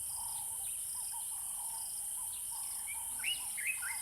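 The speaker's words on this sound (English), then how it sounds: "the lions can hear continuous chirping from the nest of the sociable weavers" Sociable weavers chirp at their communal nest in the savanna, a continuous high twittering chorus of overlapping calls at moderate distance. A steady insect buzz runs underneath.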